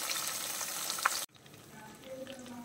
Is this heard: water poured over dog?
no